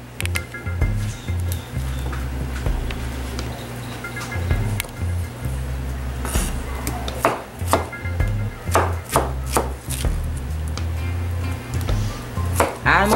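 A knife chops pineapple into chunks on a cutting board, giving steady, rapid knocks close up over a low hum, with a few louder, sharper strikes toward the end.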